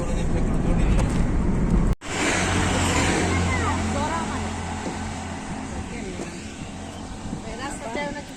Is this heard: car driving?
yes